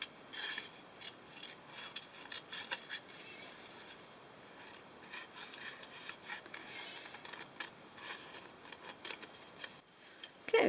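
Scissors snip through cardstock along a faint shadow guide line, giving a run of quiet, irregular crisp cuts and rasping strokes close by, with no voices.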